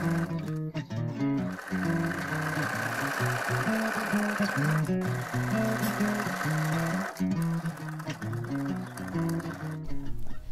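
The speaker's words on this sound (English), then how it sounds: "stitched in all those alterations" A sewing machine stitches alterations into a 1950s swimsuit pattern in a steady, loud mechanical whir with a rhythmic chatter, running almost continuously for about ten seconds with brief pauses.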